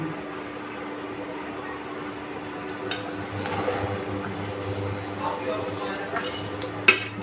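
A lid settles onto a pot of khichuri after the stove is turned off in a home kitchen, a soft metallic clatter and clink over a faint low hum, ending in one sharper knock.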